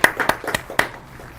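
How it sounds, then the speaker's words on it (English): Clapping from a clap track played in the background at a live giveaway, a quick run of several sharp, close hand claps that taper off within a second or so. "Do we still have that like clap track in the background?"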